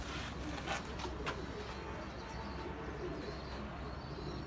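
Pet pigeons coo softly at a breeder's loft, low murmuring calls over a steady outdoor background, with a few faint higher chirps mixed in.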